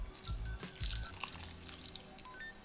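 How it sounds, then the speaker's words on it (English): Coconut milk pours into a pot of black-eyed peas and rice in a soft liquid stream with gentle splashes and a few low thuds, quiet and close, without any talk. "Now we're gonna add about 1/4 cup of ruku and 1 cup of coconut milk."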